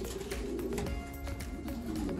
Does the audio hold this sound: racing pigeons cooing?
yes